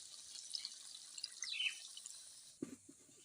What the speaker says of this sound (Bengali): এরপর আমি পরিমাণ মতো জল দিয়ে দেব।